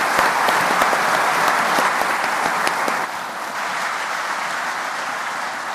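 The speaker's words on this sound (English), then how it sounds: "let's give the panelists a round of applause" A crowd applauds steadily and loudly for several seconds, dense clapping that eases off slightly near the end.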